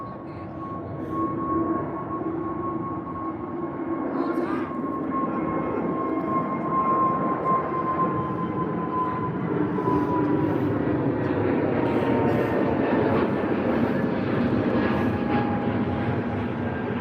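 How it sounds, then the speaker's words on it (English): An Aer Lingus Airbus A320 takes off from London Heathrow, its engine roar loud and steady with a sustained whine, building slightly as the jet climbs away. "Aer Lingus A320 heading off to Shannon. Just taking off here from London Heathrow."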